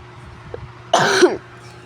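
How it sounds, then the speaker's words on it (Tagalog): A single harsh cough, close and loud, breaks a quiet room. "Ako nga pala inuubo"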